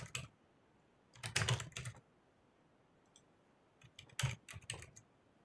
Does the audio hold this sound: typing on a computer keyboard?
yes